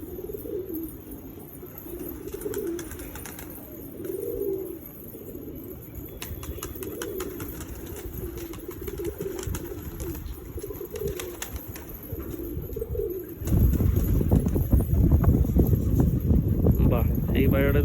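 Fancy pigeons at a lot sale coo in repeated low throaty phrases through most of the stretch, then a burst of wing flapping and scuffling rises near the end, with voices faintly in the background.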